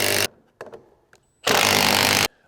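A Makita XGT 40V cordless power tool runs in two loud, steady bursts of high-pitched whirring, separated by a short pause with light clicks and handling noise, each burst stopping abruptly.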